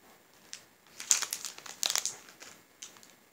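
A large shopping bag crinkles and rustles nearby in quick, uneven bursts, with sharper crackles in the middle, heard alone without talk.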